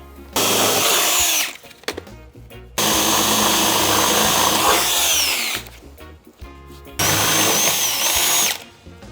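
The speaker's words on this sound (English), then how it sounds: "we just got done drilling all the holes" A power drill runs in three long, loud bursts separated by short pauses, its whine rising and falling as it bores side-step bracket holes through the metal body of a Mercedes Sprinter van.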